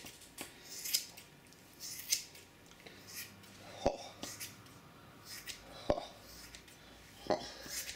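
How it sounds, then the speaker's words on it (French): Scissors snip through hair as someone cuts their own hair, about five crisp, close snips spaced a second or two apart, with faint whispering in between. "Voilà, je coupe mes cheveux."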